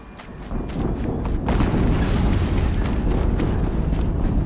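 Game explosion from Horizon Zero Dawn, a dense low rumbling boom that swells after a soft start and sustains loudly throughout, with faint crackling debris on top.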